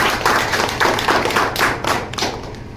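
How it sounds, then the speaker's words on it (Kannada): Brisk, rhythmic clapping at a community gathering releasing the Nekara Togata Veera society's 2026 calendar, close and fairly loud, with regular pulses of claps over a few seconds. "ಬರ್ಲಿ ಒಂದು ಚಪ್ಪಾಳೆ ಮಾಡ್ತೀನಿ."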